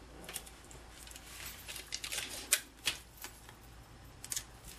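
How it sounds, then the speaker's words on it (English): Scotch tape is pulled and pressed over a rubber stamp, giving faint crinkles and sticky rips with a few sharper tearing bursts. The sounds are close and quiet, and no one speaks. "you're just going to tape over the part that you don't want to stamp"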